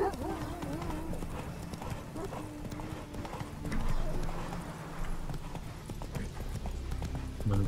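Steady hoofbeats of a horse being ridden in The Witcher 3 clop along in an even rhythm under game music and ambience, with a brief whinny and someone talking over it.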